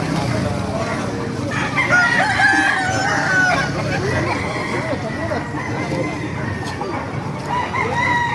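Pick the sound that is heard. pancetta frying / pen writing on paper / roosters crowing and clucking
roosters crowing and clucking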